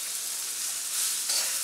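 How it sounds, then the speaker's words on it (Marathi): Tomato and peanut thecha sautéing in a pan over a medium gas flame, giving a steady soft hiss of frying with a slight rise toward the end, with no talk. "पहिले 1 मिनिटभर चांगलं परतून घेते मीडियम गॅसवर"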